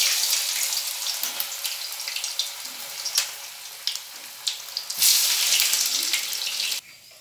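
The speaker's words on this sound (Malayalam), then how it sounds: "ഇനി നമുക്ക് ഇതൊന്ന് ചൂടായ എണ്ണയിലേക്ക് ഇട്ടെടുക്കാം." Unnakaya, a Kerala banana snack, frying in hot oil: a steady, fairly loud sizzling hiss runs throughout with small crackling pops, a brief louder burst near the end, then cuts off abruptly.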